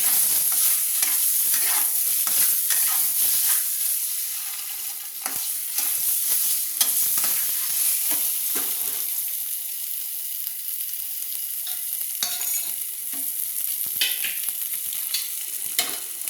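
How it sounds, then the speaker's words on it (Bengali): Bright, high sizzle of eggs frying in oil, broken by repeated scraping strokes of a spatula in the pan. "দিয়ে ডিমগুলো 4টে ডিম আমি ভেজে নিচ্ছি।"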